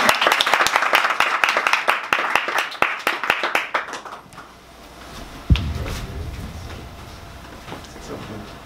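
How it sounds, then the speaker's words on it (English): An audience applauds a speaker at a talk, brisk close hand claps in a dense run that thin out and stop after about four seconds, followed by quiet room noise, a single thump and soft voices. "let's give him a round of applause"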